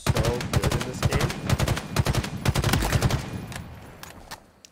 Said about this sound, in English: The battle rifle is so good in this game.